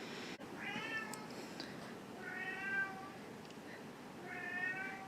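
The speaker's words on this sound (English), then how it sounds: "Can you hear my cat?" A pet cat named Shiloh meowing indoors, three drawn-out plaintive meows spaced a couple of seconds apart, faint and a little distant over a quiet background.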